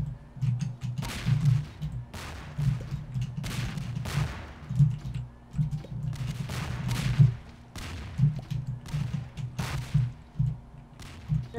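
Bombs going off in the Melonbomber video game, a run of sharp, punchy blasts repeating roughly every second over a steady low rumble, with no talking.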